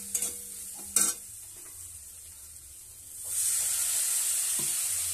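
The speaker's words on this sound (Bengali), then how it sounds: "এটাকে আমি ভালো করে এবার জল দিয়ে কষাতে থাকবো।" Tomato and spice paste stir-fried in a pan with a splash of water, a couple of sharp spoon knocks against the pan, then a loud steady sizzle and hiss that swells and holds, close and without talking.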